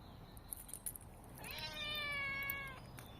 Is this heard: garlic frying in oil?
no